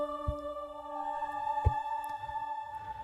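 Mystic Choir preset from the Zero G Kepler plugin: a sustained, airy choral pad holding steady tones, with soft low thumps and no voices speaking.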